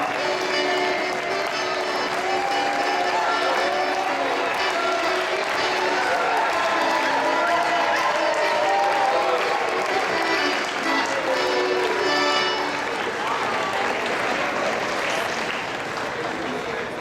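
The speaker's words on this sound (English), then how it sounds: "One more big applause for the West Coast Estonian dancers." An audience applauds West Coast Estonian folk dancers at a Folklife festival, producing a sustained, even wash of clapping from a large crowd that holds steady throughout, with a voice talking over it.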